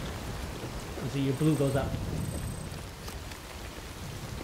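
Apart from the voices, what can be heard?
rain in the video game Death Stranding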